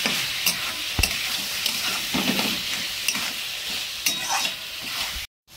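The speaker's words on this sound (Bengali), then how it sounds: "এবারে মশলাগুলো একটু কষিয়ে নিই" Spices with green chillies being stir-fried in a pan for a chicken curry: continuous close sizzle with repeated spatula scrapes and clinks, fairly loud, no talking, ending abruptly.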